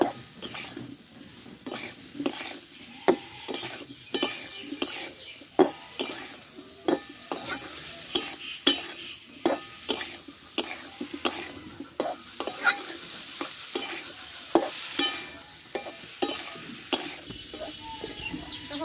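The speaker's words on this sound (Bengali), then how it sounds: "আলু বরবটিটা ঢেলে দেবো দিয়ে একসঙ্গে ভালো করে কষে নিব" Potatoes and yardlong beans are stir-fried together in a pan: constant sizzling punctuated by rhythmic, close metal spatula clanks and scrapes against the pan for the whole stretch.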